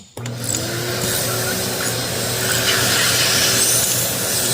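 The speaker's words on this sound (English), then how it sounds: "Sucking oil." A shop vac runs steadily, sucking oil out of a tractor through a tube, its loud, continuous whooshing drone starting abruptly and holding without a break.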